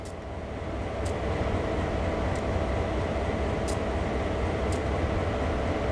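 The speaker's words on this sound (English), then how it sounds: "you could hear the other locomotives running over there" Diesel locomotives idle in a Train Sim World 4 scene on the Sand Patch route, a steady low rumble heard at a distance with a few faint ticks on top.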